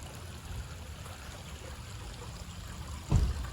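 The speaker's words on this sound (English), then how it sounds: "It's right by a creek." Soft, steady flowing water of a creek at a campsite murmurs in the background, with a brief low thump near the end.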